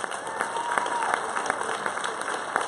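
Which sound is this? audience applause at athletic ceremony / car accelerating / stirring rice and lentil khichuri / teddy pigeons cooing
audience applause at athletic ceremony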